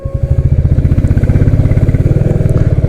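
A Royal Enfield Classic 350 motorcycle engine idles close by, a loud, steady low thumping beat with rapid regular pulses throughout and no talk over it.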